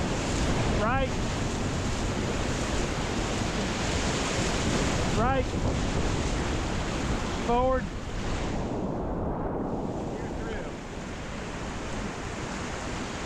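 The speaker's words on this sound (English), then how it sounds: "Just fun rapids that are not too difficult." Whitewater rapids in Tallulah Gorge, Georgia, roar continuously as a Phat Cat Schredder runs fun, easy boogie water, with a steady broadband rush of churning water and wind close up, while short spoken calls come through over the noise.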